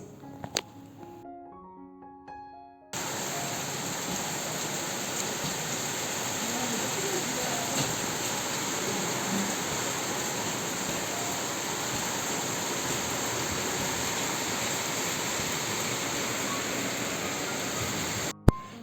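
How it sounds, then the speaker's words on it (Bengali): Rain pouring down during a cold, stormy spell: a steady, dense hiss that starts abruptly and runs loud and unbroken for about fifteen seconds, with no talking over it. "আজকে বৃষ্টি পড়ছে"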